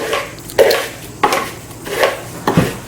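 Four evenly spaced utensil strokes clack against a bowl or board while apple crisp is prepared, sharp close knocks with quiet gaps between them.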